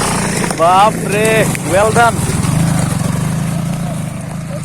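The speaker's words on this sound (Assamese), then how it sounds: "এয়া চাওক বাইক কেনেকৈ ওপৰলৈ, পাহাৰটোৰ ওপৰলৈ লৈ গৈছে" A motorcycle engine labours up a hill near Tejpur, Assam, its low steady drone running continuously beneath excited voices talking over it.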